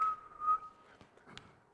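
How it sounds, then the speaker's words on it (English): A low whistle is blown into a microphone for an AM radio modulation demonstration, a clean steady tone held for about half a second, then followed by faint clicks and handling noise. "We whistle into the microphone."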